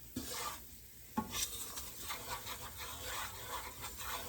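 A utensil scrapes at stuck bacon pieces in a non-stick pan, making quiet, repeated rasping strokes over a soft sizzle, close by.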